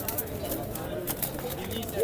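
Male pigeons coo at a busy Sunday pigeon market in Saddar, low soft throaty calls heard close by under steady chatter and crowd noise.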